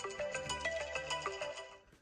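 An iPhone 14 Pro Max ringtone plays a bright, tinkling melodic pattern of quick repeated notes, steady and clear, then fades out at the end.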